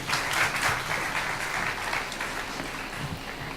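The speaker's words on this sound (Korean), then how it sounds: "큰 박수로 모실게요." A seated audience at a Korean startup forum claps to welcome a lawyer up to speak, with steady, moderately loud applause from many hands that fades slightly toward the end.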